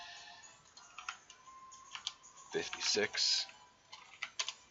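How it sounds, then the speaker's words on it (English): Irregular clicks of a computer keyboard as Pokémon stat values are typed in, light taps scattered across the moment, some in quick clusters, with a spoken number over them. "you type out your stats"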